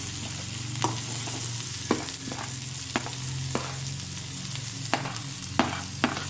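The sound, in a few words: onions sizzling in a hot pan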